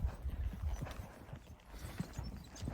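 Horse hooves clip-clop in a steady, uneven rhythm while a rider heads back to the truck after moving cattle into a canyon, the steps fairly close and moderate over outdoor ambience.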